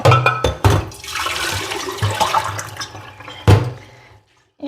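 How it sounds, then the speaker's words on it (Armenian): Hot tap water running into a cooking pot: a splashing, rushing pour with a few sharp knocks and splashes, fairly close, fading to silence at the end. "Ինչու եմ տաք ջուր լցնում,"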